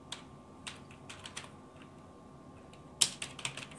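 Quick typing on a computer keyboard at a PC command window, scattered key clicks close by and fairly quiet, ending in a louder burst of keystrokes.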